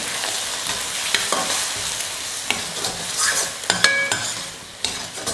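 A spoon stirs eggplant and egg frying in a pan, with a continuous sizzle and scattered close scrapes and metallic clinks against the pan.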